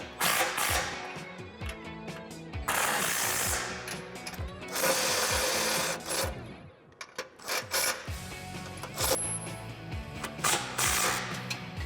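Power tool tightening the mounting hardware on a RedRock 4x4 Attack stubby front bumper with winch mount for a Jeep Wrangler JK, running in several loud, close bursts of whirring and rattling with brief pauses between them.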